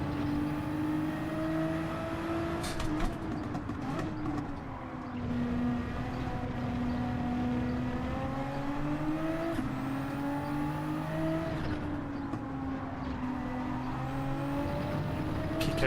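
A race car engine at full throttle in Gran Turismo 7 holds a loud, continuous high-revving drone, the pitch rising and dipping with gear changes through a sustained run.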